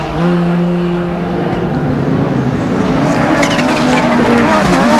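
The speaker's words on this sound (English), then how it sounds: "Trevor Reeves in the 2-wheel drive Ford Sierra RS 500." A two-wheel-drive Ford Sierra RS 500 rallycross car races at Brands Hatch, its engine roaring loud and steady throughout, with tyre noise and a rising, shifting pitch as it passes close by.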